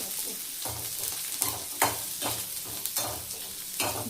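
Ingredients frying in a pan, a steady sizzle broken by repeated stirring scrapes and knocks at a roughly regular pace, close and moderately loud, with no talking.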